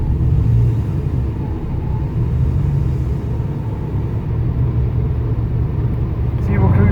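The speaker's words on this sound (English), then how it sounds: "See, we're cruising down the road," An early C4 Corvette cruising at about 55 mph on a warm day, a steady low engine and road rumble with tyre hum filling the cabin, holding an even level throughout.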